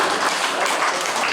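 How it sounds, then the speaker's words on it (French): Audience applause at a twinning reception, a steady broadband wash of many hands clapping throughout, moderately loud with no clear voices over it. "On peut l'applaudir."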